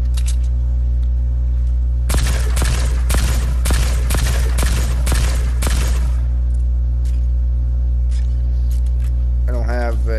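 Fortnite gunfire, a rapid string of loud sharp shots lasting about four seconds over a steady droning game background, then quieter play.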